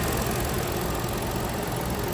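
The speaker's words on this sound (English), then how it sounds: "I'll leave the car running because it does need to recharge" A 2014 Ford Flex SEL engine idles with an even, continuous hum and faint mechanical ticking, steady and fairly close, with no voices.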